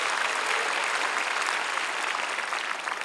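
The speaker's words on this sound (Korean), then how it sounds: "박수로 하나님께 영광 돌렸습니다" A crowd claps steadily at an outdoor prayer rally on the Peace Plaza of the War Memorial in Seoul, the dense, even applause holding loud and unbroken throughout with no talk over it.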